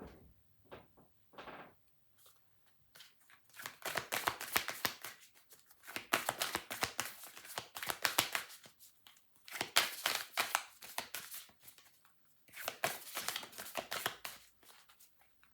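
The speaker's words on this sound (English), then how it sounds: "One more shuffle." Playing cards, a large deck, are shuffled in several bursts of quick riffling clicks separated by short pauses, close by and fairly quiet.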